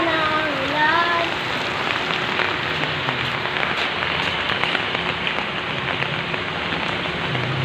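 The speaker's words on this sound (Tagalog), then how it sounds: "lumalakas ng ulan" Heavy rain pouring down steadily, a dense, loud hiss of drops on surfaces that fills the whole scene, with a brief whistling tone early on and no talk.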